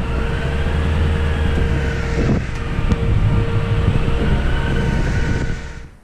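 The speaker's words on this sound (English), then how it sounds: "we're gonna go ahead and give them a quick little test drive and see how it goes" A 2014 Ford Mustang GT/CS with newly installed Brembo brakes is driven on a short test drive, heard as a steady, close road and engine rumble with no talk that fades at the end.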